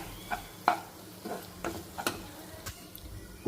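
Green chillies being stirred as they fry dry in a pan, with a quiet, steady sizzle punctuated by sharp intermittent scrapes and taps of the spoon against the pan.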